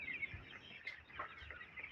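Broiler chicks only four or five days old peep in quick, high, overlapping chirps, close and fairly quiet, with no voices present.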